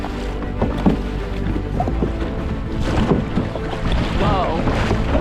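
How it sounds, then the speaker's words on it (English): Ocean waves slosh and splash around a kayak off Oahu, with gusty wind buffeting the microphone and a few faint voices and paddle knocks in the mix. "It seems like we have quite a bit of waves going."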